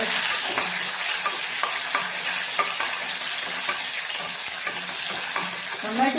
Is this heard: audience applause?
no